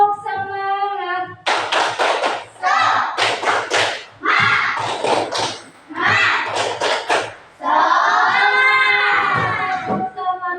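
A group of teachers in a classroom-style session does spirit clapping in bursts of rapid rhythmic claps, loud and close, mixed with voices chanting along between and over the clapping.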